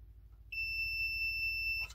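A multimeter gives a steady continuity beep while probing circuit traces on a Lexus LS400 engine control unit board, one clear tone lasting over a second before cutting off with a faint click.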